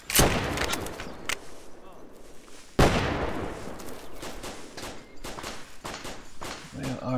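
Gunfire in the military shooter Arma II, sharp loud rifle shots in irregular bursts with echoing tails, one heavier blast near the middle, and some distant crackle in between.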